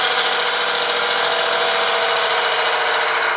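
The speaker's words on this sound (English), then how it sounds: "I'm using my swept back grind bowl gouge" A swept-back-grind bowl gouge cuts a tenon into a wooden piece spinning on a woodturning lathe, giving a steady, loud, hissing shear that holds even and unbroken throughout, with no talking.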